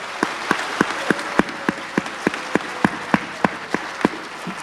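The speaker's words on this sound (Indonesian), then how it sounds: "Boleh tepuk tangan yang meriah Bapak Ibu." An audience at a sales seminar claps in a steady, rhythmic beat, sharp evenly spaced claps over a soft crowd noise, with no talking.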